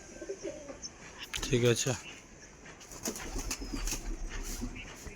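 Long-kept pigeons in a home loft coo in a low, throbbing rhythm, with a burst of close wing flapping midway, while someone speaks briefly over them.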